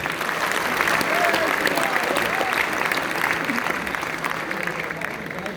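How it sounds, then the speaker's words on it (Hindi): A crowd at a Ramotsav event at GL Bajaj gives loud, sustained applause that fills the whole stretch evenly, with faint voices underneath. "मैं चाहता हूं एक बार अपने अभिनंदन में जोरदार तालियां बजाएं"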